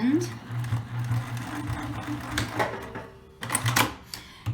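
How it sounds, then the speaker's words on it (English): A sewing machine stitches a fabric tote bag in steady whirring runs, close and fairly loud, stopping and restarting while a person talks over it. "Now we're gonna make a final stitching in the middle."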